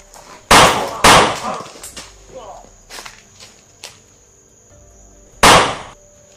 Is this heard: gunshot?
yes